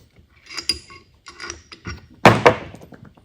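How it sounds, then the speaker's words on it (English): Metal dies slid out of a crimping tool after its bolt is removed on a 1964 Galaxie alternator wiring job, making a series of clunks, clicks and scraping knocks, ending in two louder metallic thunks. "Let's take this bolt out. Slide these dies out."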